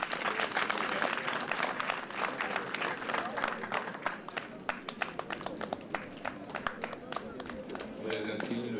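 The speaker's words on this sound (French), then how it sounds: "Et sous vos applaudissements." Audience applause at a French military retirement ceremony, sustained clapping from a seated crowd with distinct individual claps standing out. It runs steadily for several seconds and then fades, as a voice and a brief tone come in near the end.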